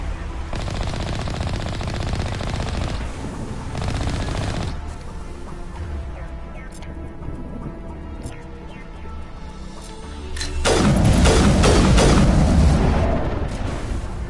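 Weapons fire in the video game Mass Effect: rapid bursts of loud gunfire in two sustained stretches, separated by a quieter pause with scattered shots and game ambience.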